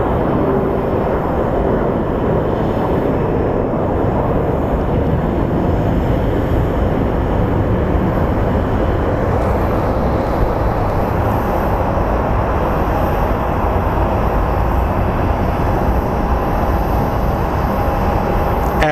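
A U.S. Marshals plane departing Phoenix Sky Harbor International Airport: a steady, broad jet engine roar, loud and continuous throughout, with a faint tone emerging near the end.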